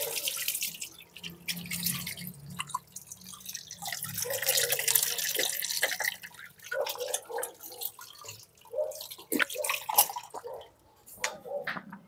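Water runs and splashes from a kitchen tap while chicken tinola is being cooked, an uneven trickle with scattered drips and spatters at moderate distance, rising and falling in intensity.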